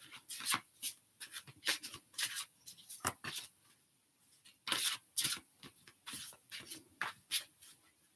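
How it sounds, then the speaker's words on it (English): Oracle cards are shuffled by hand in a quiet room, a series of short papery riffles and slides coming in irregular bursts with brief pauses between them, close and clear. "As I shuffle them"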